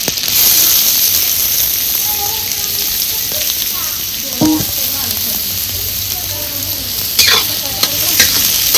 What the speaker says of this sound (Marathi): तेल गरम झाले आता कांदा घालायचा.